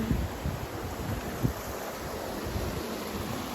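Water rushing from a waterfall along a road trip stop in Iloilo, Philippines: a continuous broad roar of falling water with wind buffeting the microphone, steady and fairly near, no voices.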